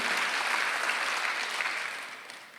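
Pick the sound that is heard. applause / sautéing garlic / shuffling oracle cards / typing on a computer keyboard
applause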